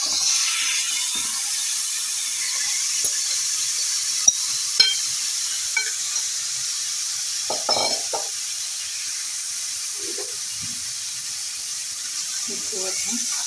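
Marinated chicken sizzles in a pan on a stove over a medium-high flame, a steady bright hiss running throughout with a few soft clicks and knocks of stirring.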